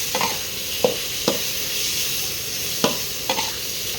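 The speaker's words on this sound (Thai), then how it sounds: "ตอนนี้ก็จะเป็นไฟแรงนะครับผม หมูมันจะได้สุก" Minced pork stir-frying over high heat in a wok, giving a steady close sizzle broken by a few sharp spatula scrapes.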